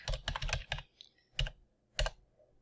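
Keys clatter on a computer keyboard while coding, a quick burst of several keystrokes followed by two isolated taps, close and clear with no talk.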